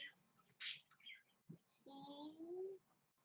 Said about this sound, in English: I can hear the birds louder than you.